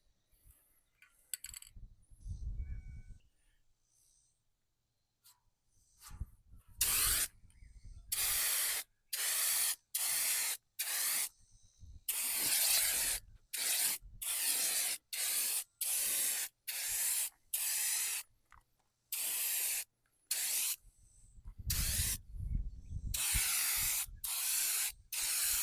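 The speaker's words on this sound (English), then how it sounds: "I was pretty happy with the way the Rust-Oleum turbo can laid it down" Rust-Oleum bed liner is sprayed from a turbo can onto the underside of a truck bed in many separate hissing bursts of a second or two each, loud and close, with short pauses and faint handling noises between them.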